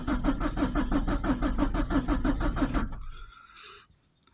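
A Peugeot 306 1.9 diesel cranks rhythmically for about three seconds without catching, a steady loud churn of the starter motor that then cuts off, leaving a faint high whine and quiet ambience.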